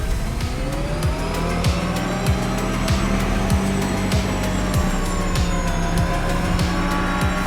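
Cars race in The Crew Motorfest, including electric vehicles: a steady high whine of motors with repeated tire squeals and rushing wind, loud and continuous with no voices.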